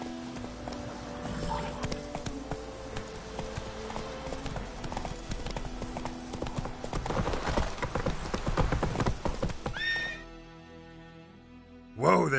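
Roach the horse clip-clops along in The Witcher 3: Wild Hunt Game of the Year Edition on PS4, with clear rhythmic hoof strikes close up, then slowing to a stop as the ambience drops away.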